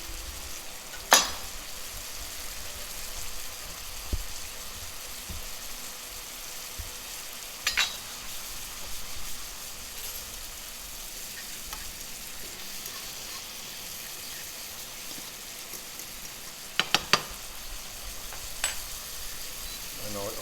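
Green asparagus and spinach fry in a pan with a steady, soft sizzle, broken by a few sharp clicks and scrapes of stirring.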